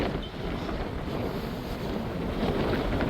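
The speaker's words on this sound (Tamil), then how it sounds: "இந்த கடலில் சத்தம் வந்து அதிகமாக இருக்குது" Sea surf roaring at a shore in Jaffna, heard as a loud, continuous broadband rush of waves mixed with heavy wind buffeting the microphone, with no talk.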